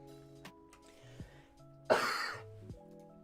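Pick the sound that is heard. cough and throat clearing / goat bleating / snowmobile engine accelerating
cough and throat clearing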